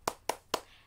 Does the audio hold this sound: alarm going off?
no